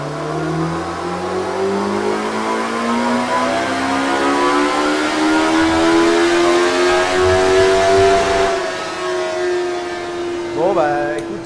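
A Kawasaki motorcycle on a dyno revs steadily higher in one long climbing pull, loud and close, then drops off abruptly before a brief final blip.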